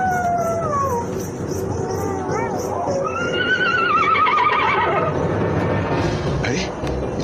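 A horse whinnies with several high, wavering neighs, loud and close, over a busy background with music and talk, in a Hindi ghost story set around a horse-drawn carriage.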